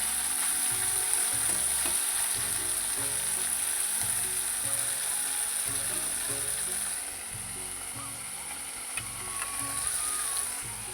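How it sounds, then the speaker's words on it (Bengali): Small fish frying in hot oil in a home kitchen, a steady loud sizzle with crackling bursts running continuously, alone without talk. "মাছ ভাজা কিন্তু আমার অনেকটাই হয়ে গেছে"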